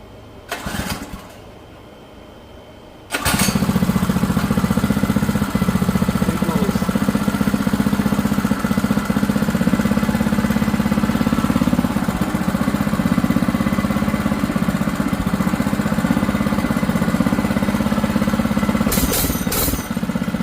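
A 105cc Oryxearth mini bike engine cranks, catches after a few seconds and settles into a loud, steady close-up running drone that holds with little change.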